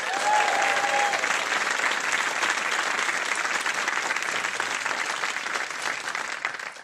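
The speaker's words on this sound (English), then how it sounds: "give a huge round of applause to Terry O'Hagan." Steady, loud applause from a large comedy show audience, a dense wash of clapping that holds for several seconds before easing slightly at the end.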